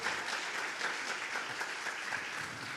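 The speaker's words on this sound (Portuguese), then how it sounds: "Aplauda o Senhor Jesus." A church congregation claps together during a sermon, a steady, fairly soft wash of applause sustained without a break and with no talking over it.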